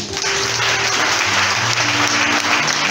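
A church congregation claps loudly and steadily to acclaim Jesus during a French-language sermon, a thick sustained roar of applause filling the room, with faint voices cheering underneath.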